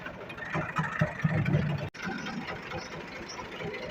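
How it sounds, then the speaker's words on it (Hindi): A tractor with a trolley hitched runs steadily near farm fields, its engine throbbing loud and close at a constant idle-like rumble, with one brief dropout midway. "ट्राली ट्रैक्टर भी आ चुका है।"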